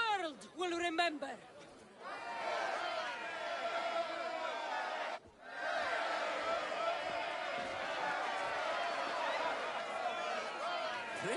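Video game crowd reaction in ancient Greece: steady murmuring chatter and cheering from a large crowd, continuous and moderately loud, with a brief dip midway and a voice speaking at the start.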